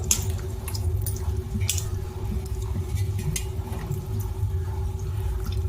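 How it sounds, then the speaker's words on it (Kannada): Ripe mangoes are washed by hand in water to rinse off soil. Close, wet splashing, squishing and dripping runs steadily throughout over a low background hum. "ನೀರು ಹಾಕ್ಬಿಟ್ಟು ಚೆನ್ನಾಗಿ ತೊಳ್ಕೊಳ್ಳೋಣ"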